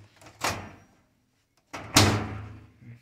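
A hotel room microwave door is opened and then shut, two sharp clicks and thumps separated by a short pause, close and fairly loud with no talk.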